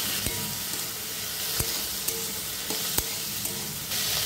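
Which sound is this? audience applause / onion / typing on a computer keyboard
onion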